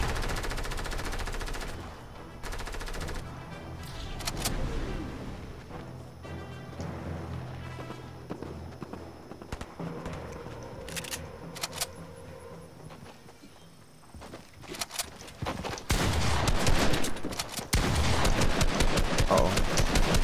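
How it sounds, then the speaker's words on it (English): Rapid automatic gunfire from an automatic sniper rifle in Fortnite, bursts of shots cutting through game sound with hoofbeat-like clatter and footsteps, growing louder and denser near the end. "There's an automatic sniper rifle."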